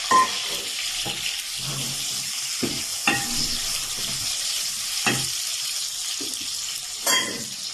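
Onion frying in a pan, a soft steady sizzle close by, broken by several sharp clinks and scrapes of stirring and a brief splash of water near the end.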